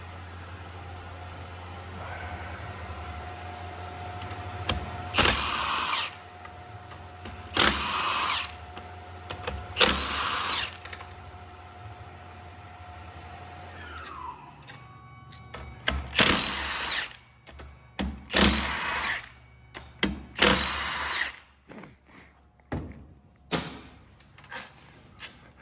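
A power tool spinning out seven 13 mm bolts from a DCT 470 transmission gear cluster assembly in an EVO MR / Ralliart, with repeated short, loud whirring bursts separated by pauses and a steady background hum.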